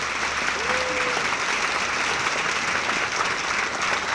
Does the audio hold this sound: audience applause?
yes